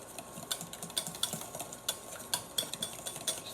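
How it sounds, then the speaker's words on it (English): A whisk scraping along the bottom of a bowl through pasta dough mixture, producing quick irregular clicks and scratches at close range, with no voices. "I want to keep the whisk to the bottom so I don't incorporate air"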